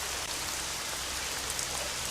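Heavy stormy rain pours down in a dense, unbroken hiss, steady and fairly quiet, with no voices over it.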